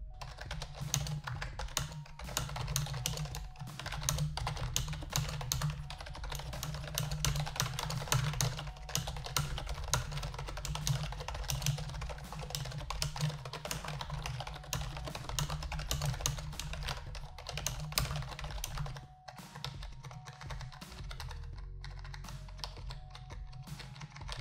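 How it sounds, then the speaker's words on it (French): Steady, fast typing on a Razer Cynosa Chroma membrane keyboard, a dense, soft patter of keystrokes that is close and continuous, with a brief pause near the end. "on termine avec un point positif des claviers à membrane, ça sera évidemment l'utilisation beaucoup plus silencieuse que les modèles mécaniques"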